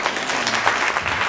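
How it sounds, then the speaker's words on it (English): An audience at a county commissioner's fireside chat gives a brief round of applause, a thick, even patter of many hands over a second or so. "I think that deserves a round of applause"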